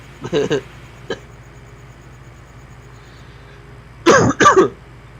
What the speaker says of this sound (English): And now I'm coughing all over the place.